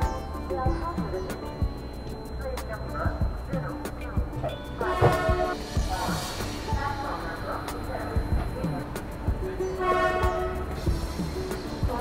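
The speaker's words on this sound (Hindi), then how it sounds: "हमारी ट्रेन जो है ना वो आई है प्लेटफॉर्म नंबर 5 पे" Rajdhani Express pulling into platform 5 at Kanpur Central station: continuous rumble of the train and station bustle, with a horn sounding and voices talking throughout.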